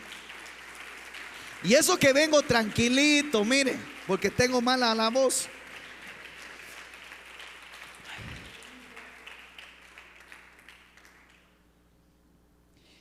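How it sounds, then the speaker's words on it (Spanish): Church congregation clapping for the Lord during a Spanish-language sermon, a burst of applause lasting a few seconds under a preacher's loud sung and spoken voice, then fading to quieter talk. "Dele palmas al Señor."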